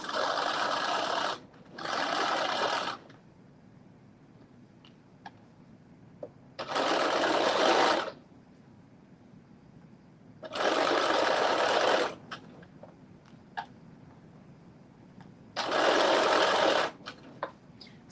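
A sewing machine runs in five separate bursts of rapid stitching while understitching a garment facing, each run lasting one to two seconds, separated by quiet pauses with small clicks and handling noises.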